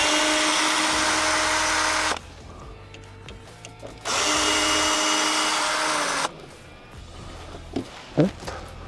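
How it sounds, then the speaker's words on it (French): Power screwdriver whirring steadily as it backs out two small screws from a battery cover plate in a Fiat, Peugeot or Citroen van, two loud sustained bursts of about two seconds each separated by quieter handling noises. "On a deux petites vis qui maintiennent la platine dessus qu'on retire."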